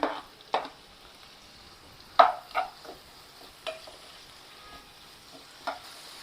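Chopped tomato dropping into a pan of softened frying onions for mutton dalcha, giving a few sharp sizzling bursts and stirring clatters spread apart over a quiet low simmer, close and fairly soft.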